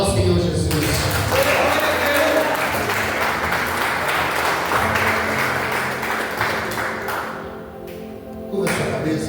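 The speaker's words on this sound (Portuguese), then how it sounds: "Aplauda ao Senhor Jesus." Church congregation applauding during a Portuguese-language service, a sustained wash of clapping with some taps and thumps, fading near the end before a brief louder swell.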